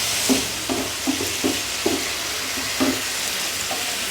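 Cubed chicken fries in oil with a steady, even sizzle, while a spoon stirs the pan in soft, regular scrapes about every half second, close up and with no voices.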